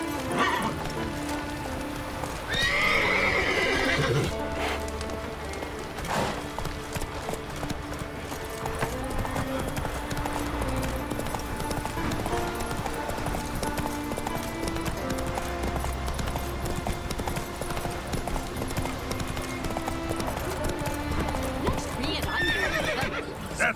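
The horse Roach in The Witcher 3 galloping with rhythmic hoofbeats throughout, neighing loudly a couple of times, over game background sound with rain, while voices talk over parts of it.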